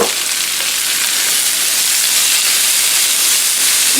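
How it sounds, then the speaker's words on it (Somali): Chopped meat and vegetables fry loudly in a pan for pasta, a close, dense and continuous hissing sizzle with no pause and no talk. "waxaan ku darsanayaa hilib aan jarjaray"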